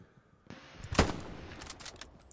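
Gunfire in the World War II shooter Hell Let Loose, with a few sharp nearby shots, one loud crack standing out, then scattered distant bursts of fire, with no voices.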